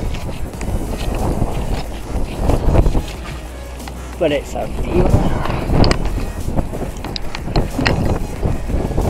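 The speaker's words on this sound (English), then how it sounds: "it's windy up here" Wind gusts roar and buffet the microphone on the rooftop of an abandoned BT building, loud and steady throughout, while people talk over it.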